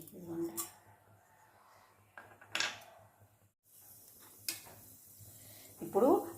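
Fenugreek seeds drop into hot oil in a pan for a taro curry, giving brief sizzles and a few metallic pan and utensil clinks, fairly faint, with a crackling burst near the end and a voice speaking quietly.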